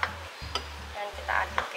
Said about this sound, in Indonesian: dan kita aduk ya.